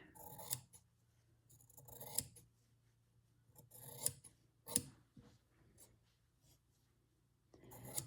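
Pinking shears snip through the edge of quilt fabric in a few quiet, separate crisp cuts spaced across a calm room, with no talking.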